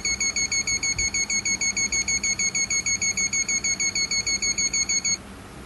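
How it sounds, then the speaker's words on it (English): A buzzer in a 555 timer intruder alarm circuit sounds a rapid run of evenly spaced, shrill electronic beeps for about five seconds, then cuts off, leaving faint background hiss. "the alarm, consisting a buzzer and LED, stays on until reset by the appropriate authority"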